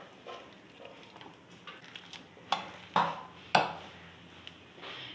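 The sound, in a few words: mashing boiled potatoes with a masher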